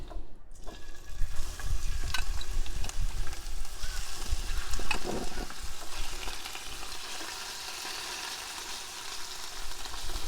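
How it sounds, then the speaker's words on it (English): Loud, steady sizzling of lamb frying in a hot pan outdoors at a campsite, with occasional stirring scrapes and no talking. "There's getting little bits of rain in there, sizzling away. That's going to do us. Let's chuck in our lamb."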